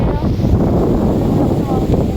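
Wind blows across a hilltop picnic grove in Tagaytay City, a loud, continuous low rumble buffeting the microphone close up with little variation.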